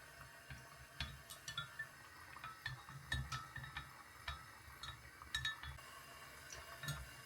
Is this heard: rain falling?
no